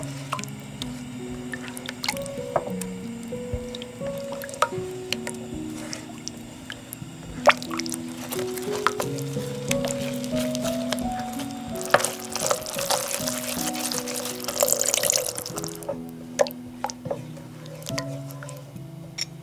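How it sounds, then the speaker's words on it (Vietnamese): Water poured slowly into chili sauce in a pan and stirred in, giving close, wet squishing and dripping sounds with soft scraping over steady background music, the liquid noise swelling near the middle. "Sau đó thì mình cho nước vào từ từ, khuấy đều cho tương nó tan ra."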